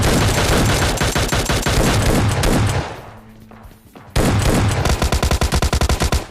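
Rapid bursts of Mini 14 rifle gunfire in the PUBG Lite battle royale game, loud and close, with a brief quieter lull midway before the shots resume in quick succession.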